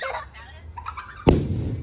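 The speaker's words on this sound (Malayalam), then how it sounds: "നമ്മൾ ഗുണ്ടൊക്കെ പൊട്ടിച്ച്, ഗുണ്ട്, പൂത്തിരി, പിന്നെ ചക്രം എല്ലാം സെറ്റാക്കി" A single firecracker explodes in one sharp, loud bang partway through, among festival fireworks such as bombs, sparklers and spinning wheels, after a stretch of quieter background voices and a lingering low rumble.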